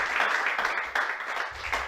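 A church congregation applauding in worship, a steady wash of many hands clapping together with rhythmic swells, close and full.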